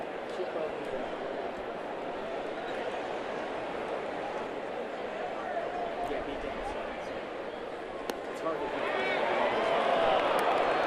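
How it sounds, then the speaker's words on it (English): Baseball stadium crowd at Dodger Stadium during a Dodgers–Nationals game, a steady broad roar of many voices that swells louder near the end after a pitch. "Crowd reacting."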